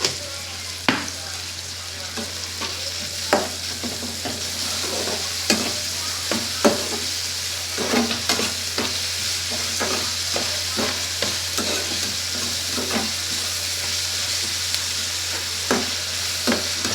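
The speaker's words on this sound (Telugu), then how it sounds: "ఒక పక్కన ఇలా ఫ్రై అవుతుంది." Chicken and onions frying together in a pan, a constant sizzle broken by frequent sharp scrapes and knocks of a spoon stirring at an irregular pace, close and steady with no speech.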